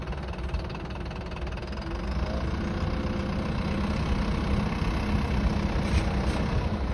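A vehicle stuck at a tilt in soft sand in Saudi Arabia's Hisma Desert strains to climb out, its engine idling with a knocking note and then revving up and holding a louder, vibrating drone.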